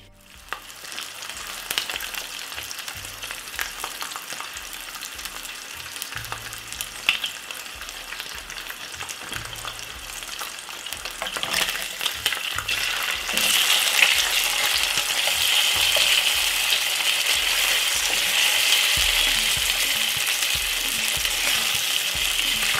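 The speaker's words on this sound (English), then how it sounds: "basically I got 2 lovely thick pieces of bacon and I'm gonna pan fry them off." Two thick pieces of bacon pan frying in olive oil sizzle steadily and close, with occasional stirring or pan knocks, and the hiss grows louder and fuller partway through.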